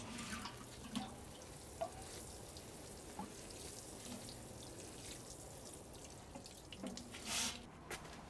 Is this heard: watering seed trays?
yes